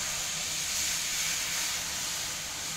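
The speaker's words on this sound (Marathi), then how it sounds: "आता याच्यात मी पाणी टाकणार।" Water hitting hot oil and a spice mix of chili powder, garam masala and turmeric in a pan, giving a loud, steady sizzling hiss that continues without a break.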